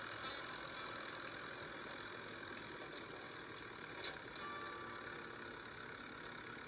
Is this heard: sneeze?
no